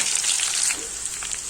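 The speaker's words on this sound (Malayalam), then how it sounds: "ചെറിയ ഉള്ളി ഇട്ട് കൊടുക്കാം." Small onions sizzle in hot oil for a Kerala pumpkin curry, a dense steady frying hiss held close and continuous for the whole moment with no voices.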